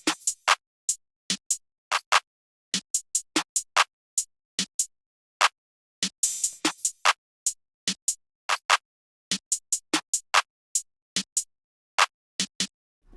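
A programmed drum beat built in FL Studio, with snares, claps and an open hi-hat: crisp, dry hits in a steady pattern, each close and clean against silence, and one longer washy hit around the middle.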